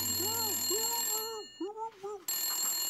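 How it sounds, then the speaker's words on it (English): A telephone bell rings in repeated warbling bursts as a sound effect in a children's storytime reading, loud and near, fading briefly mid-way before resuming, with no talking over it. "Farmer Brown phoned for help."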